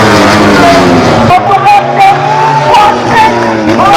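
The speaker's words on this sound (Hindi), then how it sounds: "यहाँ पर सब डाउन शिफ्ट की आवाज़ आएगी स्पेशल" A MotoGP racing motorcycle downshifts, its loud, close engine note stepping through rapid pitch drops and rising whines with rough, buzzing harmonics throughout.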